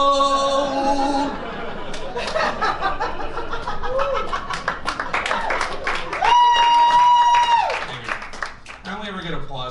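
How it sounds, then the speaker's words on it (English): A comedy club audience at a Kill Tony set breaks into scattered applause and chuckling while the comedian sings, clapping and laughter mixed under the sung and spoken voice throughout. "I only ever get applause breaks when I sing, usually."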